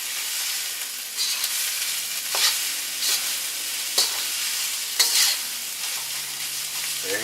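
Fried rice with a little sesame oil sizzling steadily on a grill, with stirring scrapes and spatula clicks breaking through the hiss every second or so; close and loud, no talking.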